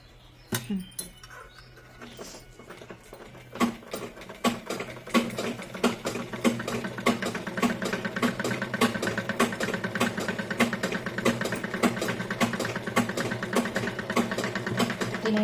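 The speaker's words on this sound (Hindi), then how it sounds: "इसे भी 1 इंच जगह छोड़ के सिलाई लगाऊंगी" A sewing machine stitches pleats into a palazzo, its motor starting after a few scattered clicks and then running as a steady, rapid mechanical whir for most of the stretch. No voices are heard.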